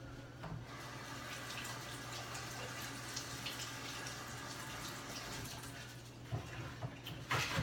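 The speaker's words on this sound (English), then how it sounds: "So I'm gonna rinse this off, so un momento." Grains are rinsed in a fine-mesh strainer under a running tap, a steady close splashing rush of water with a few clinks near the end.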